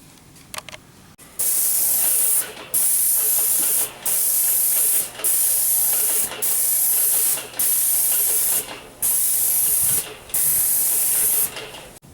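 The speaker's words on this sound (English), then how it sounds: "It gives a real smooth finish when you spray it." A paint sprayer applying a ceramic elastomeric coating to siding hisses in repeated bursts of about a second or two each, separated by brief gaps, with a low mechanical hum underneath.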